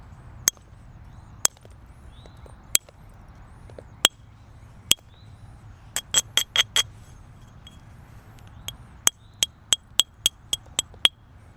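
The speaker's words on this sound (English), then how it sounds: "I was going to use hard hammer percussion there" Sharp glassy clinks ring out as a hard hammerstone strikes novaculite while flintknapping a knife, single isolated blows early on, then quick clustered bursts of strikes, each crisp and bright over faint background hiss.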